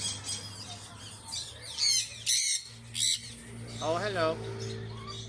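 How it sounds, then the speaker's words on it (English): An aviary of about 160 birds of 32 species from around the world squawks and chirps in repeated bursts, near and lively, while people talk among them. "We have about 160 birds, 32 different species from around the world."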